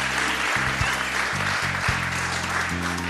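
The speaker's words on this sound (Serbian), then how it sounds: "molim jedan aplauz za naše juniore" Crowd applause for junior basketball players, a continuous broad wash of clapping under a loud steady hum that shifts in pitch every half second or so.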